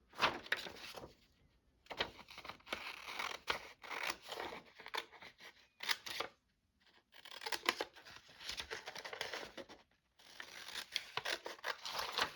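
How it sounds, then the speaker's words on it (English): Scissors snipping through paper while cutting out a shape for a paper envelope: bursts of crisp, close cutting and rustling, separated by brief pauses, with no voice over them. "How do I want to cut this out?"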